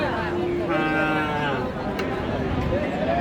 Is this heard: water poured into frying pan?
no